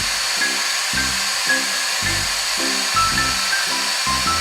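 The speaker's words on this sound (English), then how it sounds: "take our heat gun and we're gonna start heating that finish up" A heat gun blows with a steady, close whooshing hiss as it heats the finish on a guitar body, while faint intermittent knocks and clicks sound beneath.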